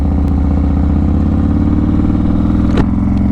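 Harley motorcycle engine rumbling steadily while crossing the Mackinac Bridge, a loud, continuous low drone with a brief clatter near the end and no voices.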